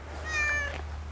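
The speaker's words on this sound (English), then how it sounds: "Guys, look, we found a small little cat." A small cat meows once in a drawn-out, rising and falling call, close and fairly clear, with steady low hum behind it at a plant and flower nursery.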